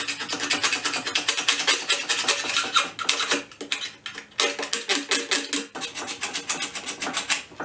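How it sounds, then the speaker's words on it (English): Paint scraper dragged along a worn acoustic guitar's wooden fretboard, lifting built-up gunk in quick, dense rasping strokes with short pauses between passes, close and fairly loud with no talking. "So we'll scrape off all of the gunk that we've left on the fretboard over time, and I'm going to use this paint scraper to do that."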